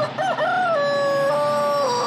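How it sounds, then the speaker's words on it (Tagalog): A rooster crows in one long, loud, drawn-out cock-a-doodle-doo with clear rising and falling tones, heard alone at the opening of a song. "Ay, may manok nga pala sa umpisa."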